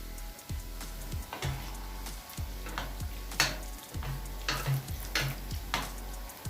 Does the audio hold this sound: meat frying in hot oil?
yes